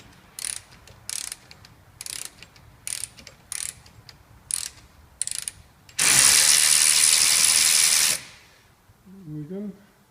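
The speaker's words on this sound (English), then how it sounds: "pop our ratchet on. Stiff the ratchet yet." A ratchet wrench on a brake bolt of a Citroen C2 1.1 during front brake disc and pad replacement, a series of short sharp clicks followed by a sustained two-second ratcheting whirr, close and loud, then a brief voice.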